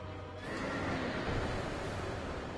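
A horse in the video game Dark Souls 2 neighs in a long, strained, continuous whinny over a rough, close-sounding breathy texture, with no talking.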